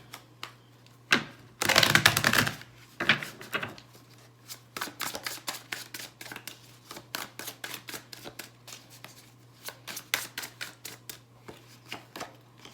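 Tarot cards riffle in a loud close shuffle burst, then a long run of crisp individual snaps and flicks as cards are pulled and laid down one after another, with no talk.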